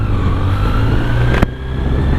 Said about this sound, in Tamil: ஸோ வண்டி ஸ்டார்ட் பண்ணிட்டு